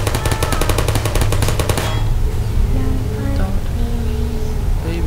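Portal sentry turret firing in the game: a loud, rapid stream of shots for about two seconds that cuts off abruptly, leaving quieter ambient hum with faint tones and clicks.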